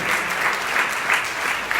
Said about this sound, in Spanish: Denle un fuerte aplauso, Señor, hermano.